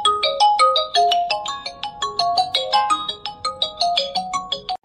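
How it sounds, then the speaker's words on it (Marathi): A melodic phone ringtone plays continuously and fairly loud for several seconds as an unanswered call keeps ringing, with no one speaking. "गडी दगडू आणि फोन करून राहिला फोन उचलून नाही राहिला."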